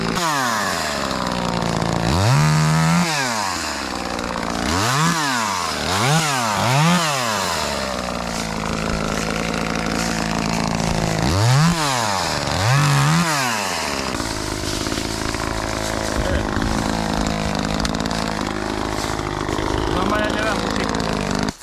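Echo 2511 TES lightweight chainsaw cutting small pieces of wood, close and loud, revving up and down in several quick bursts between stretches of idling and steady running.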